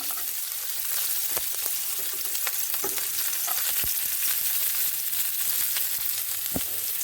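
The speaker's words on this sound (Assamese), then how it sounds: "এতিয়া আমি পিঁয়াজখিনি কাটি থৈছিলোঁ দি দিম। এটা পিঁয়াজ লৈছোঁ মই সৰু চাইজৰ, আৰু লগতে ৰহুনখিনিও দি দিম।" Small chopped onion and garlic fry steadily in a pan, a continuous crackling sizzle with occasional sharper pops and clicks of a utensil stirring, heard alone without voices.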